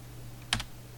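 A single sharp pair of computer keyboard key clicks snaps out close against a quiet room hum.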